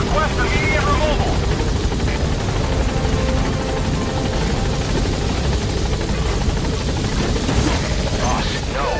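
The Pequod helicopter hovering at a landing zone in Metal Gear Solid 5, a loud, dense, continuous rotor thrum and engine roar close overhead, with radio voices talking over it.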